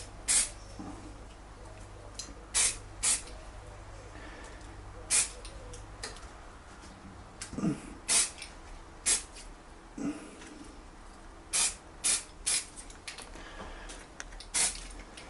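A spray can lays a thin coat of paint on an airsoft rifle in short separate hissing bursts, some single and some in quick pairs, set apart by quiet pauses.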